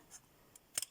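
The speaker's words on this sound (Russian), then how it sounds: "обрезаю эту ненужную петлю" Wire cutters snip through a soldered wire loop on a homemade winter bird feeder: a few quiet, crisp metallic clicks, the sharpest double snap near the end, close and isolated.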